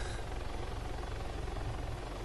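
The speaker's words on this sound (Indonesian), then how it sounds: "Eh itu ada helikopter musuh di depan" An enemy helicopter in the ARMA 3 video game gives a loud, steady rotor thump with a dense engine roar that runs unbroken the whole time, with no talking.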